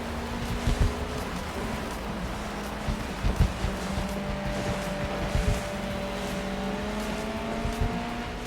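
Race car engines drone continuously in GRID Legends during a Pro Touring series race, a steady high whine from several cars with periodic louder bursts as cars pass close, no voices.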